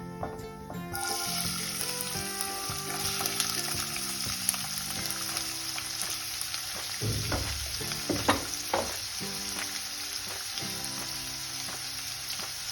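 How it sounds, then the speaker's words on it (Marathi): Onion frying in oil with cumin and mustard seeds for a pea and potato curry: a loud, continuous sizzle starts after a brief quiet moment, with scraping stirs breaking through now and then. "लगेचच कांदा भाजून घेऊया"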